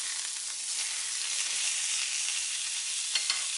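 Trigger fish fries skin-side in a hot pan with a steady, close, loud sizzle that holds throughout, broken by a couple of faint clicks near the end.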